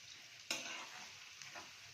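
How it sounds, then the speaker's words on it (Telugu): A utensil stirs black pepper into an egg and onion fry sitting in oil in a pan. There is a steady sizzle with a sharper scrape near the start, close and alone. "సో పెప్పర్ వేసుకొని ఇలా మిక్స్ చేసేసుకోవాలి."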